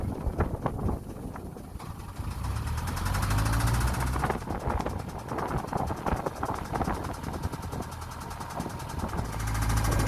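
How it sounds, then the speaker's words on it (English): A narrowboat engine on the Lancaster Canal is gunned hard, its loud rough throb surging and knocking, rising and easing in waves across the stretch with no talk. "I've got fed up and I'm just gunning that engine"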